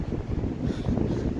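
Strong north wind buffeting a microphone on the Klaipėda seaside, a continuous loud roaring rush with gusty swells and no voices.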